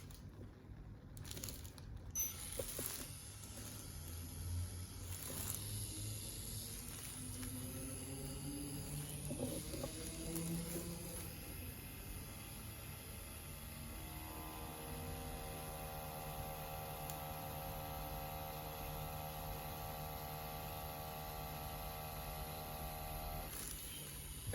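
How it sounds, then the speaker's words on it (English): A CNC Q5 tattoo machine fitted with a 7 round liner runs on practice skin, giving a steady, close electric buzz and hum that holds evenly throughout with no talking. "we're going to try a 7 round liner today and see how it goes for this CNC Q5 tattoo machine"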